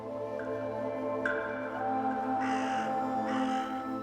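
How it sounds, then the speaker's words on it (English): Fan-tailed ravens calling over baked, rocky land above Wadi Mujib, several harsh croaking caws with a hoarse, nasal ring that come in two clear bouts over steady background noise. "The baked land lying above Wadi Mujib has given rise to fan-tailed ravens."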